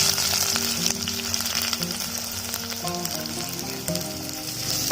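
Fenugreek seeds and shallots frying in about 50 grams of oil in a pan for clay-pot fish curry, a dense continuous sizzle and crackle up close with occasional stirring scrapes.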